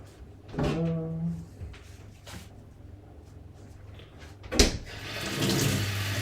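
Tap water runs in a kitchen sink to wet a knife for cutting soft feta in a Greek salad, starting and stopping in splashy bursts. A clatter sounds near the middle, and the water swells again at the end.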